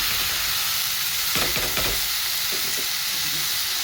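Washed dried fish (sukat) hits a hot pan for a sukat and potato dish, giving a steady close sizzle with a few crackling bursts as it is stirred.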